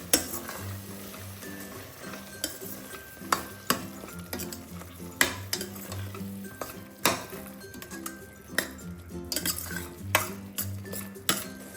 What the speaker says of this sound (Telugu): కరిగిన కొత్తిమీర, కొంచెం పుదీనా, వీటిని బాగా కలుపుకుందాం